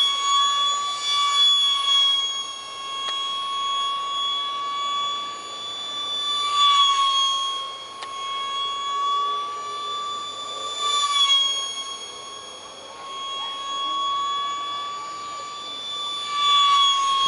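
High, steady whine of a 30mm electric ducted fan in an ultra micro model MiG-29 jet with a 360-degree thrust vectoring nozzle, a sustained tonal drone that swells and dips in pitch and loudness as the nozzle moves, close up.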